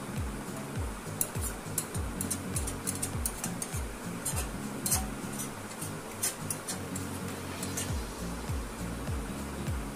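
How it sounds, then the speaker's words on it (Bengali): A water spinach dish is stirred in a pan, with repeated clinks and scrapes of a utensil against the metal in a quick, uneven rhythm, close and fairly faint, with music playing underneath. "এভাবে সুন্দর করে মিশিয়ে নিলাম"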